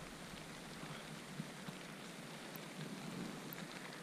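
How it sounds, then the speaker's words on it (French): Heavy rain pours steadily during a mountain trail ultramarathon near Montreux, a dense, even hiss with occasional nearby drips and splashes, no voices. "Il pleut de ouf depuis 3/4 d'heure."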